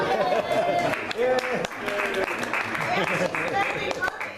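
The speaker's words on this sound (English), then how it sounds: "I think we need to have a round of applause for Councilman Moss' wife, Kathy Moss," Audience applause for a guest at a community meeting. It is steady and fairly loud across the whole clip, with voices and chatter mixed in among the clapping.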